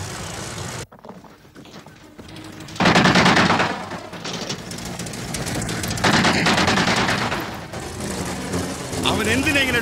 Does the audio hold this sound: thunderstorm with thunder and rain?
no